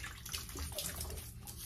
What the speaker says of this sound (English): Got some nice piping hot water here.